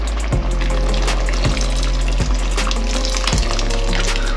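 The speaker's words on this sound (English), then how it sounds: "add a bit more water" Water is poured into a pot of simmering soup, a steady loud splashing gush that runs the whole time with a few brief knocks, no talk.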